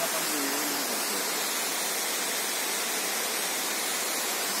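Hirni waterfall in Jharkhand roaring as a steady, loud broadband rush of falling water, continuous and unchanging throughout, with only a faint hint of a voice beneath it.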